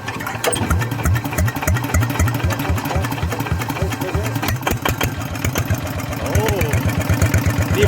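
A modified racing car engine from a Thai Chainat team, built at a Suphanburi workshop, runs steadily with a loud, rapid idle pulse close by while people talk over it.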